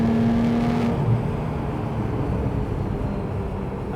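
Porsche 911 engine cruising in fourth gear at 70 mph, a loud, steady low drone with road and wind roar heard from inside the car, without talk.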